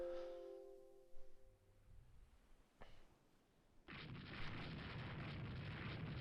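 Naval guns fire at an enemy ship in the game Rule the Waves 3. A few muffled booms roll in, then a sustained loud roar of gunfire and explosions fills the last couple of seconds.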